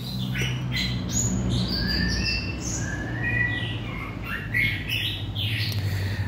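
A young orange-headed thrush sings a run of varied whistled phrases and chirps, clear and close over a steady low hum, with no talk.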